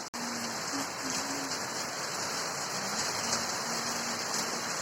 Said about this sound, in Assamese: এতিয়া পূৰা একদম বৰষুণ আহি গ'ল